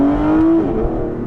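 An Aston Martin Vanquish S engine blips on a downshift, a loud close rev whose pitch climbs briefly then settles into a deep, throaty drone inside the car.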